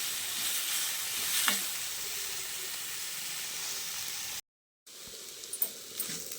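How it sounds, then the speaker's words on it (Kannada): Chopped tomatoes fry in a pan for an egg curry with a steady, close sizzling hiss, a brief scrape of stirring early on, then a short silent break before the sizzle resumes with a few louder crackles. "ಟೊಮೆಟೊ ಈಗ ಮೆತ್ತಗಾಗೋವರೆಗೂ ಫ್ರೈ ಮಾಡಿ."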